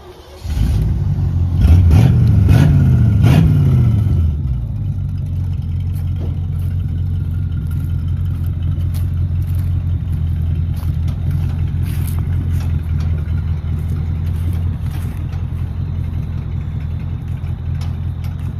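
An old truck engine, off the road for more than 20 years, cranks and catches with a few uneven revs, then settles into a steady, loud low idle that runs on alone to the end.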